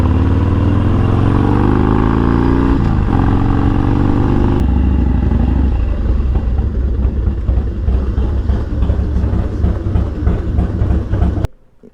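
Harley-Davidson Dyna FXDX motorcycle being ridden on a hot day at an illegal airstrip, a loud steady engine rumble with wind noise that shifts partway and then cuts off abruptly near the end.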